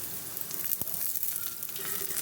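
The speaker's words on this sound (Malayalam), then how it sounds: "കൂടെ തന്നെ നമുക്ക് കറിവേപ്പില ഇട്ട് കൊടുക്കാം." Curry leaves sizzling in hot oil with onions and green chillies, a steady close crackling fry with one sharp pop partway through, no talking.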